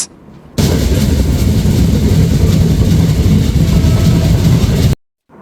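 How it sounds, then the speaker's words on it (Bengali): The Ekota Express intercity train from Dhaka to Panchagarh roars past at a station, a loud, sustained rumble of engine and wagons that cuts in abruptly and stops just as suddenly. "এই ট্রেনটি হলো ঢাকার থেকে পঞ্চগড়গামী আন্তনগর একতা এক্সপ্রেস"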